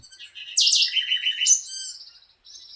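A quetzal calls in a Costa Rican cloud forest at Monteverde, a short burst of bright, high chirps and trills, clear and fairly close against a quiet background.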